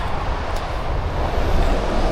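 Steady roar of road traffic on the A436, heard from a nearby track that runs alongside the road: continuous broadband rumble, moderately loud, with no voices.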